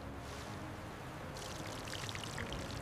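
Water runs and trickles out of a squeezed sample of soft gray silt from a lake-bed core, a faint, steady close pouring sound heard alone with no talking.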